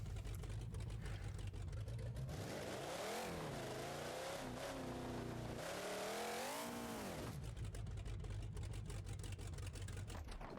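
Simulated monster truck engine in BeamNG.drive revving loudly and continuously, rising and falling in pitch as the truck rolls over, with a steady engine drone before and after the swells.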